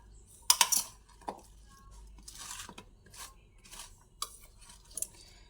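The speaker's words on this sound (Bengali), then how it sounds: "এরপরে ভালোভাবে মেখে নিচ্ছি পুরো ঢেঁড়সগুলোর মধ্যেই যেন সব মশলা লেগে যায়" Whole okra being tossed and rubbed with spices in a bowl, giving soft scrapes, rustles and a few sharp clinks against the bowl, close but quiet, with no talking.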